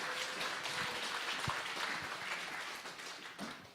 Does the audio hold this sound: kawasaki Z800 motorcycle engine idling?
no